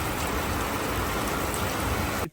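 Sudden heavy rain pours down outdoors in a dense, steady, loud hiss of drops hitting surfaces, continuous throughout with no voices, then cuts off abruptly.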